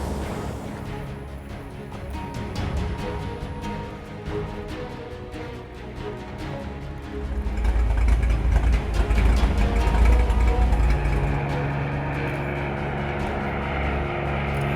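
Small plane droning steadily over Alaska, a continuous engine and propeller rumble that swells louder partway through, with no voices.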